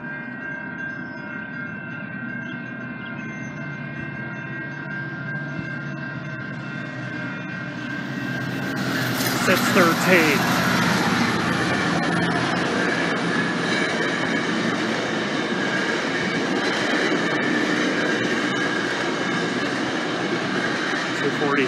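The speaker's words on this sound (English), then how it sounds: "Here's the 11:53 a.m. eastbound GO train on track 3." An eastbound GO commuter train passes on track 3 at a station, starting as a faint distant hum and swelling into a loud, sustained rumble and rail roar that holds to the end, with a short spoken remark early on.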